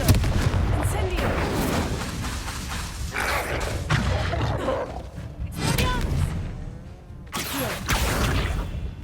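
Incendio fire spell in the video game Hogwarts Legacy: repeated thumping blasts and whooshing fire bursts over continuous loud combat noise, with a voice talking through it.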